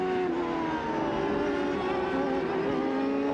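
CART Indy cars at Mid-Ohio in 1997 accelerate out of a corner, several engines roaring together at close range, with their pitches rising and falling against each other.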